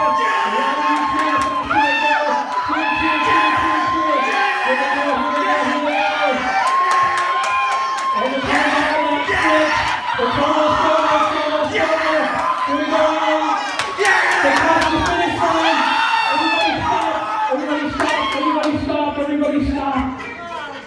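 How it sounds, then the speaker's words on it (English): A campground audience cheers and shouts loudly for horses in a pretend race during a stage hypnosis show, with sustained whoops and yells from many voices filling the whole stretch. "When that race starts, you want to cheer nice and loud for your horse"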